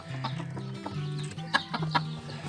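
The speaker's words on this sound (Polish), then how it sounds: "tu jest kogucik, tam jest kureczka" Sebright bantam chickens, a rooster and a hen, cluck softly at close range with a run of short, overlapping calls over a couple of seconds.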